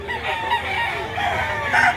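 Gamefowl roosters of the Biboy line crowing at close range, loud drawn-out calls overlapping with clucks from other birds, with no talking.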